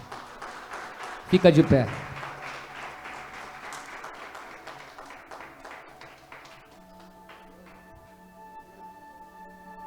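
Church audience applauding in worship. A loud swell of clapping with shouts rises early, then thins out, while a voice speaks over it and a sustained musical tone enters near the end.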